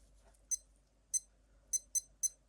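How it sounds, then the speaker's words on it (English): Short high-pitched electronic alarm beeps from a Casio ALT 6200 digital watch, five quick chirps at uneven intervals, sharp and clear against a quiet background. "Let's try this alarm quickly."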